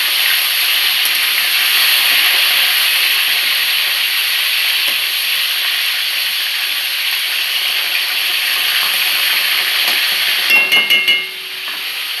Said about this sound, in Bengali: শঙ্কর মাছ রান্না করবো। এই যে অলরেডি বসিয়ে দিয়েছি।